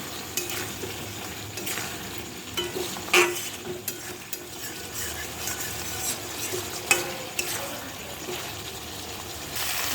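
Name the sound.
vegetable curry frying in oil and being stirred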